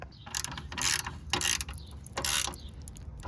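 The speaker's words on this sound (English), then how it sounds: "So we're gonna insert this bolt here." A bolt on a car horn bracket being tightened, with several close bursts of metallic ratcheting clicks separated by short pauses, no speech.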